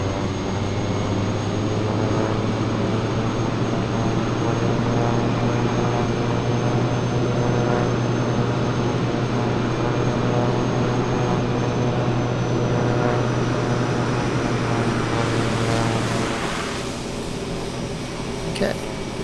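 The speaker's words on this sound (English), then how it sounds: "Put the reverse engines on." Aircraft engines spooled into reverse thrust in the Flight Simulator 2024 video game make a loud, continuous droning roar that eases off slightly near the end.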